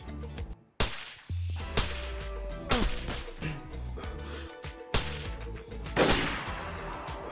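Gunshots in DayZ, a run of sharp loud cracks at irregular intervals, several close together, each with a brief echoing tail.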